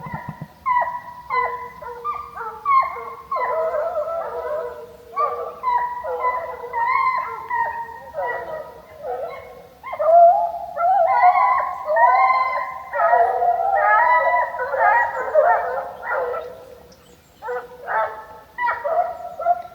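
A pack of hunting hounds howl and bay together in a long, overlapping chorus that rises and falls, loud and continuous.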